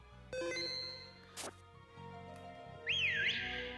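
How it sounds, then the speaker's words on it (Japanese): In Pokémon Sword and Shield, a whistle plays as a short rising and falling melodic tone over soft game music, clear and fairly loud near the end. "口笛弾けるのか"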